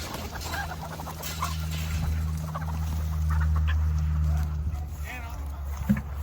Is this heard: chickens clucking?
yes